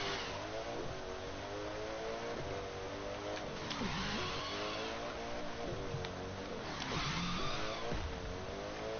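Engine revving and sliding from a car drifting in the racing game Dirt, with the pitch rising and falling in repeated sweeps, loud and continuous, and a voice occasionally talking over it.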